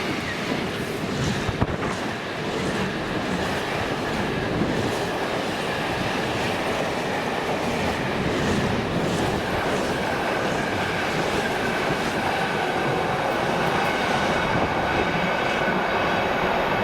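DRS freight train 4A15 hauled by locomotive 76301 rumbles steadily past at Monifeith, a loud, continuous roar of engine and wagons with rhythmic wheel clatter throughout.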